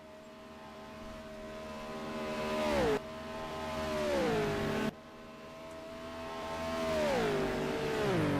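Race car engine in a Nordschleife endurance sim race screaming up through the gears down the straight, rising pitch with two sharp upshifts, loud and close.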